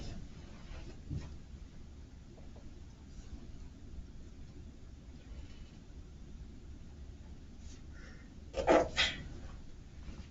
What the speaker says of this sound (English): Almost seemed like you tried to hold that sneeze back.